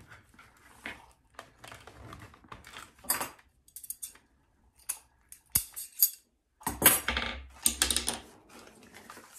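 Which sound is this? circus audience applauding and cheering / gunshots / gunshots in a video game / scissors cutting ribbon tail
scissors cutting ribbon tail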